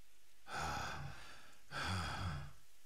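A character in the Naruto Shippuden Ultimate Ninja Storm 4 video game panting: two heavy, breathy exhalations about a second apart, close and fairly soft.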